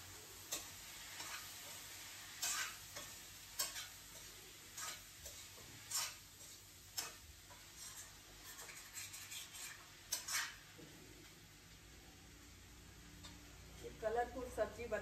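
Colourful mixed vegetables cooking in a pan, a faint steady sizzle broken by repeated clinks and scrapes of a spoon stirring, with someone speaking over it.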